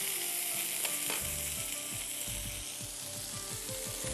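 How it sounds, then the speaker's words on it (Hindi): Chicken pieces with the skin on searing in a hot pan, with a constant loud sizzle and regular scraping, clinking strokes of a spatula or spoon stirring against the pan. "चिकन को आपने सियर करना ज़रूरी है ताकि जूसी रहे दोनों तरफ से।"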